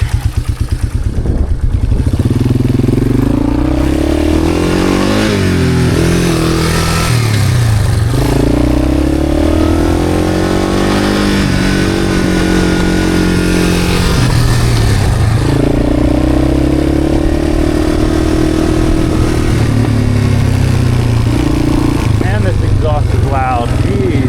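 A cheap 4x4 ATV with a loud exhaust revs repeatedly on a test drive, engine pitch climbing and falling in several surges, close and loud throughout, with occasional speech underneath.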